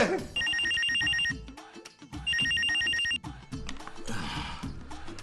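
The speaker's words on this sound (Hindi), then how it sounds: "बेल जा रही है" A telephone rings in two bursts of rapid trilling, separated by a short pause, with a busy background underneath.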